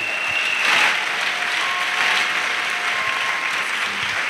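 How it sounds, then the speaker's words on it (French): A church congregation in Côte d'Ivoire claps and cheers in sustained, dense applause that stays steady and loud throughout, with no speech over it. "Clap for Jesus."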